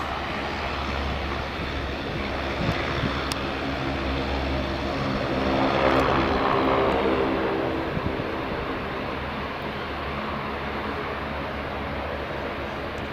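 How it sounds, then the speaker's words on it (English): Loganair Saab turboprop airliner taxiing back down the runway at Aberdeen Dyce Airport, a steady droning engine hum with a tonal whine that swells briefly midway before settling. "So Loganair just backtracking down the runway."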